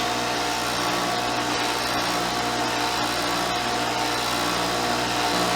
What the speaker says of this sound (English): Yeah, that grinder's got a draw. 730 watts.